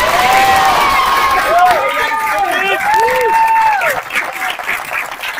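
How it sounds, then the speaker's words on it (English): A graduation audience on a high school football field applauds and cheers in a steady, loud wash of clapping, with voices and whoops rising over it throughout. "And I'd just like to send a really quick thanks out and get some applause for Ms. Amanda Pippin, our Dean of Students."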